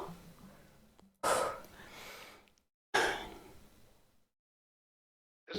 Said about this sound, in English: you hear how hard I'm breathing